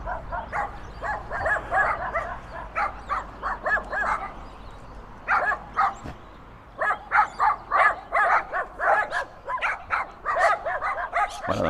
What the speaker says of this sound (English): And there's always little dogs here.